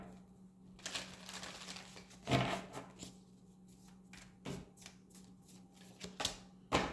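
Tarot cards shuffled and drawn in a handful of brief papery riffles and flicks, soft and close, with quiet pauses between bursts and a faint steady hum underneath.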